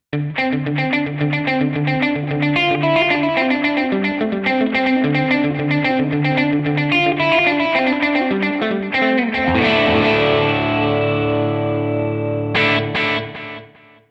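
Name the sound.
Boss RV-200 plus delay effect demo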